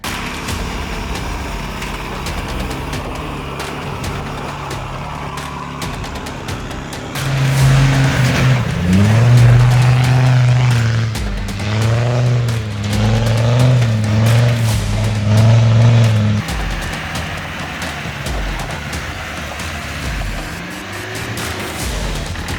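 Land Rovers grind up a steep off-road trail in low range, engines droning steadily and then swelling into a loud laboring rev for several seconds before easing off again, heard from nearby outdoors.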